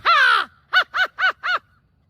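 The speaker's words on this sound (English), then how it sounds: "Then the American crow." An American crow calls loudly and up close: one long, drawn-out caw followed by four shorter, evenly spaced caws, with silence around them.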